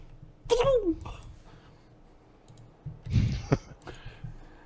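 A quick sneeze bursts out near the start, followed a few seconds later by another sharp throaty burst, with quiet clicks around them.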